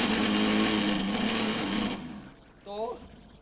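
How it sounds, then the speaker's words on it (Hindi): A kitchen mixer grinder whirs loudly as it blends mint and curry leaves, then cuts off abruptly after about two seconds, followed by quiet and a brief voice. "और इसको डाल दिया ऐसे मिक्सी में और ऐसे डाल करके और फिर इसको घुमा दिया और घुमा दिया"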